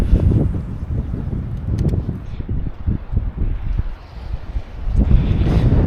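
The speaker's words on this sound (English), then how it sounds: "It's not so bad when you get your back to that wind, but when you face into it, god damn, it's cold." Strong, cold wind gusts steadily across a boat out fishing for salmon off Tasmania, roaring loudly and continuously close to the microphone with buffeting surges throughout.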